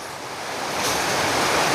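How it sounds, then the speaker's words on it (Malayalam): Floodwater rising quickly around a house makes a steady, loud, broad rushing roar that grows slightly stronger. No one speaks. "എന്തൊരു വേഗമല്ല വെള്ളം കയറുന്നേ."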